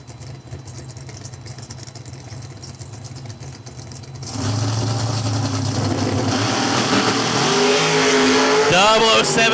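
Oldsmobile Cutlass launching at a bracket drag race, a loud engine roar that swells abruptly mid-clip and rises in pitch as the car accelerates down the strip, over steady crowd and track noise with a faint announcer.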